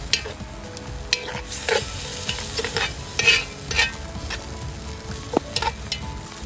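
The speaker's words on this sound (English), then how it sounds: "Give that a stir." Food is stirred in a pot over a campfire at an outdoor bush cookup, with clove in the mix. Close, irregular scrapes and clinks sound over a low sizzle.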